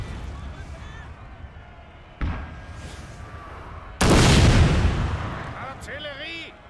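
Cannon artillery firing during a Napoleonic-era battle in the Napoleon Total War game, with a sharp blast around the middle followed by a heavy booming burst and rumble, while someone speaks.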